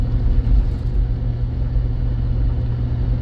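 A 2005 GMC Yukon's engine pulls steadily uphill, a loud, continuous low rumble with road noise and no voices.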